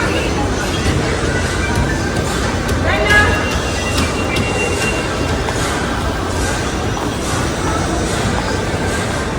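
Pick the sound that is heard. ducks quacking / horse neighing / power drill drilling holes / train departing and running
train departing and running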